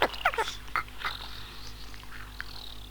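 A dog named Barney whines and whimpers in a handful of short, high, breathy cries clustered near the start, then trails off into faint, quieter whimpers against a low hum.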